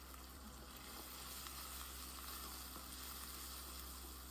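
Spinach puree sizzles steadily in a hot pan, a continuous soft frying hiss that stays even and fairly quiet throughout.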